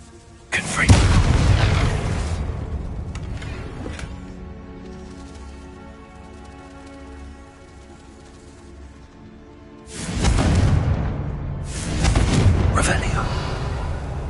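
Confringo spell blasts in Hogwarts Legacy erupt as several loud booming explosions, one early and two more near the end, separated by a quieter stretch of low rumbling game ambience.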